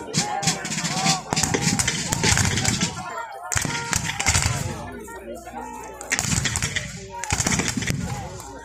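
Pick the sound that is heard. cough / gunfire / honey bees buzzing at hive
gunfire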